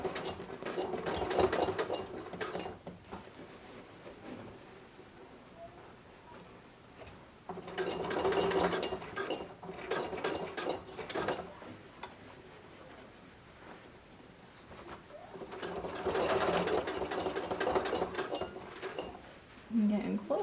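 A sewing machine stitches a bias-tape hem on a child's quilted vest in three separate bursts of rapid mechanical whirring, close and fairly quiet, with pauses between runs.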